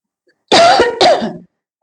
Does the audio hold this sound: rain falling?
no